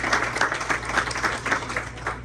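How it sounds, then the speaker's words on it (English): A crowd applauds steadily, many hands clapping in a dense, continuous patter with no voices standing out. "Give yourself a round of applause real quick."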